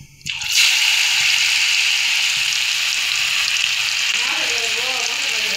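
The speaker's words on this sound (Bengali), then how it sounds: "এখন একটা একটা করে তেলে ছাড়বো।" Battered pieces of mixed vegetable pakora, coated in gram flour, drop into hot oil and fry with a loud, steady sizzle. The hiss swells after a brief quiet start and then holds, with soft bubbling beneath it.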